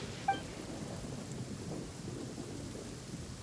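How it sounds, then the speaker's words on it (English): Thunder rumbling through steady rain in a Genshin Impact game scene, a continuous low storm wash with a faint chime near the start and no voices over it. "Ah, so the thunder we heard was you!"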